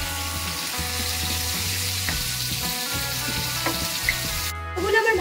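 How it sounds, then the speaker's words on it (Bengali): Potato pieces fry in hot oil for a Bengali fish curry, giving a steady, close sizzle with low bubbling throughout and a brief louder spatter near the end. "ভাজার তেলেই আমি এই আলুগুলোকে ভেজে নেব।"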